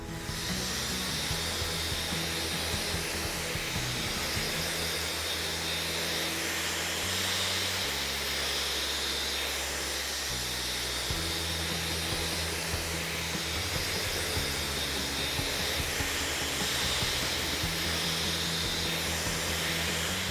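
A hair dryer rough-drying hair that has just been rinsed after a smoothing treatment, a steady loud whooshing blow running continuously throughout with slight shifts in pitch as the dryer moves.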